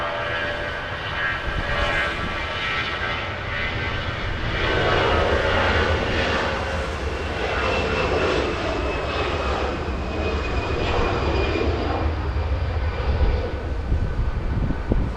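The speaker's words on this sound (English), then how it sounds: "We'll go get the departure right now. Delta 2385 flying to Las Vegas," Delta flight 2385 departing Los Angeles International Airport for Las Vegas, a steady jet engine roar from a distance that swells and holds, with a whining tonal component across the takeoff run.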